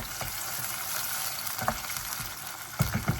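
Onions fry in a pan for curry while being stirred, a steady close sizzle broken by a few scraping and clattering stirs near the end, with no voices.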